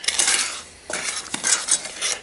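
A wooden spoon scraping and clinking against a pot while stirring chocolate pudding on the stove, made with extra cocoa and butter; a few short scrapes and knocks come in bursts, close and clear, with no talking.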